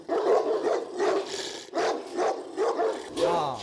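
Large Ovcharka dogs bark repeatedly at visitors, a run of loud, close barks in uneven bursts with a short yip near the end, while a person speaks briefly over them.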